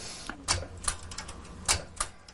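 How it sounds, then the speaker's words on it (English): A manual typewriter clacks out a handful of sharp, uneven keystrikes at close range, with no one speaking. "the keys on a manual typewriter slow down typing to the speed that the brain can think"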